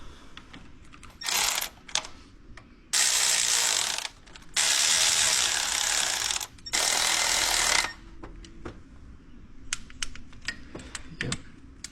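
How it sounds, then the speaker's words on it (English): Ratchet wrench running in bolts on a 2010 Ford Explorer 4.6L water pump, heard as several loud bursts of rapid clicking separated by short pauses, then scattered single clicks as the bolts snug up. "I'm just going to run these bolts in."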